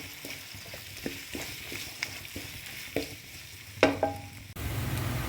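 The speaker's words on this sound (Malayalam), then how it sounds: "ഈ സവാള ഒന്ന് ബ്രൗൺ കളറായി വരട്ടെ. ഇതുവരെ നമുക്കൊന്ന് ഇളക്കി കൊടുക്കാം." Sliced onions for tomato rice are stirred as they fry in a pan, with repeated scraping strokes over a steady sizzle. Near the end the frying swells louder.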